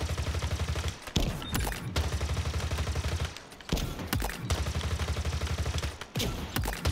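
Rapid automatic weapon fire in Halo Infinite multiplayer weapon drills, long rattling bursts broken by short gaps and sharp single reports, loud and close with no talk over it.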